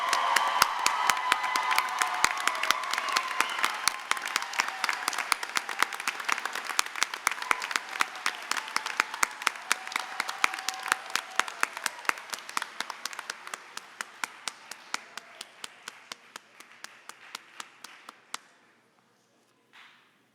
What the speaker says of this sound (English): let's have one more final applause for these amazing students.